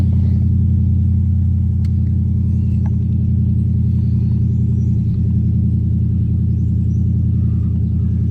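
A car engine with about 66,000 miles idles while warming up, giving a steady, close, low rumble that never revs. A few faint clicks sit on top of the drone.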